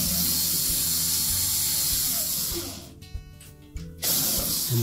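Bolts being tightened on a Whirlpool washer tub assembly with a ratchet, giving steady clicking and whirring up close before a brief pause and faint clicks, then the ratcheting resumes.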